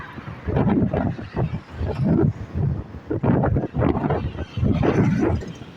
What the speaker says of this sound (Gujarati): બહુ મસ્ત હવા આવે યાર